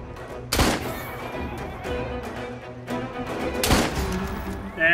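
Two sharp, loud gunshots ring out a few seconds apart in the video game Assassin's Creed Syndicate, set against quieter background game ambience.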